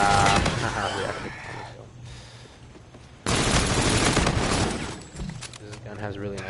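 Gunfire from Call of Duty: Infinite Warfare, loud crackling bursts of rapid shots that stop, then surge back in a heavy stretch, with game effects and a voice talking beneath.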